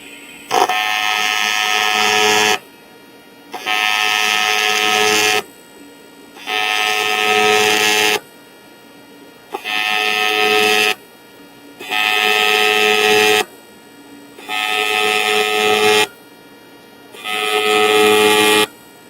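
TIG welding tacks on anodized aluminum, a loud buzzing arc struck seven times in a steady rhythm, each burst lasting about two seconds and separated by short silent gaps.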